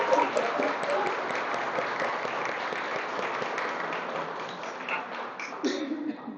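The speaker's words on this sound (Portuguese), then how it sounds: "uma salva de palmas para o Dia Internacional da Mulher" Sustained applause from an audience at a public lecture, dense and even clapping throughout, fading slightly toward the end.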